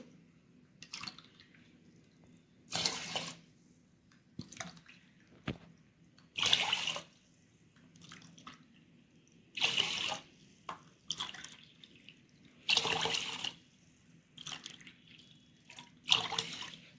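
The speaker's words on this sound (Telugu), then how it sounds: "వాష్ చేసుకున్న రైస్లో 3 కప్స్కి 6 కప్స్ వాటర్ పోయాలండి" Water is poured in several separate bursts into washed rice for mutton biryani, each splashing pour lasting about a second, with quiet gaps and small drips between.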